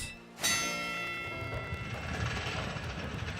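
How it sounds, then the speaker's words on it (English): A bell rings out in the Pokemon Scarlet video game, a sudden loud strike followed by a long sustained metallic ring that hangs steadily and fades slowly, heard alone without talk. "Ring the bell."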